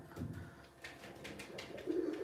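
Pigeons coo softly at a bird auction, low murmuring calls repeating under a faint background of room noise, with no voices clearly heard.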